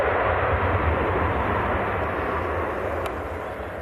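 A Ryanair Malta jet at Manchester Airport gives a broad, heavy engine roar, loud and steady before slowly easing off.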